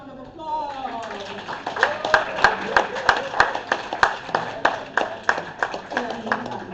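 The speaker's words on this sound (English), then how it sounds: "Another round of applause." Steady rhythmic clapping from a small group at a conference runs under a voice talking over a microphone, the claps evenly paced and moderately loud.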